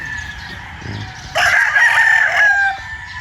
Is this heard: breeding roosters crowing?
yes